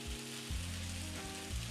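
Singapore chow mein frying in a wok, a steady close sizzle with a constant hiss and low rumbling bursts of the pan over the heat, no talking.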